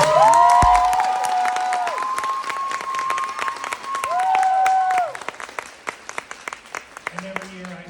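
An audience at the Makeup Show, an annual makeup event, applauds and cheers. Dense clapping mixes with rising whoops and shouts, then thins toward the end into scattered claps.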